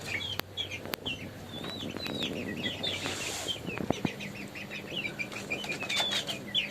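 Chickens of mixed golden, black and white breeds flap their wings and cluck inside a cage in a rooftop room, a busy close flurry of wingbeats with scattered chirps over steady background noise.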